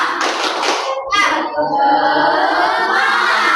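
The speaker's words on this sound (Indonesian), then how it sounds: "Oke, terima kasih, tepuk tangan." A group of children clapping their hands together in a classroom, bursts of dense rhythmic claps with a short pause, mixed with young voices calling out.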